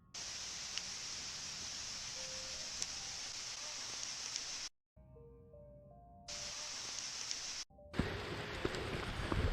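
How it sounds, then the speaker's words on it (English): Steady rain falls through woods at night, a dense hiss that cuts out briefly and returns, with faint tonal blips mixed in. "the investigation was cut short by rain"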